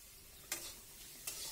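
Fish belly pieces frying in a pan for an Assamese home lunch, a steady soft sizzle broken by two distinct scraping stirs about a second apart, close and fairly quiet with no voices.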